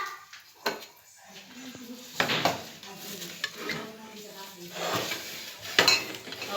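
A pot is set down and handled on a gas stove while making black chana curry, giving a few close metallic knocks and clatters, with a voice talking over it.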